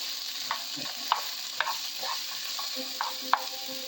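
Shrimp and chicken sizzle steadily in olive oil in a hot pan on high heat, with a soft continuous hiss under occasional utensil clinks from stirring, and no talking.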